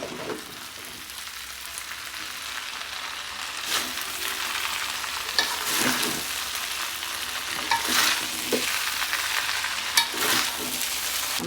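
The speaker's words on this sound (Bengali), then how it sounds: "এখন আমি ডিম আর পেঁয়াজটা আলাদা একটু ভেজে নিলাম, এখন দিয়ে দিচ্ছি" Fried egg and onion stirred into chow mein in a hot pan, continuous sizzling with repeated scraping strokes of a spatula against the pan, close and fairly loud.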